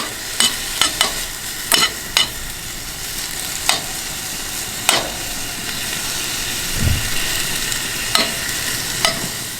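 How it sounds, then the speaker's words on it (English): Bacon frying in a pan on a stove at a tailgate breakfast, with a loud, steady sizzle throughout and intermittent sharp crackles and pops. "I'm just trying to get this bacon a little more crispy"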